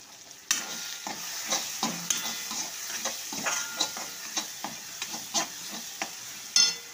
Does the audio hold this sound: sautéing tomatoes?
yes